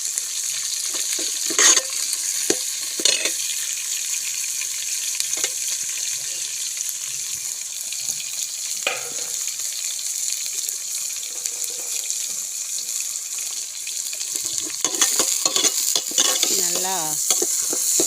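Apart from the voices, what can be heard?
curry leaves and garlic frying and stirred in pan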